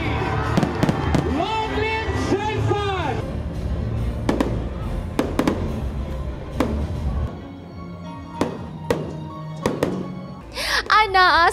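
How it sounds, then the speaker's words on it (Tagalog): Fireworks display at a grand opening event in General Santos City, with a run of sharp bangs and crackling bursts spread through the clip, set against crowd noise and a speaking voice. "Anaa sa kapin 10 minutos ang nasaksihang fireworks display sa mga general."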